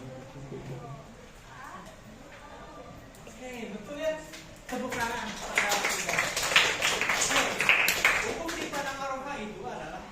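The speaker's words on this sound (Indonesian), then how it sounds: "Tepuk tangan." A classroom of students bursts into applause during an Islamic studies exam, dense, lively clapping that swells and continues for several seconds after a voice speaks briefly.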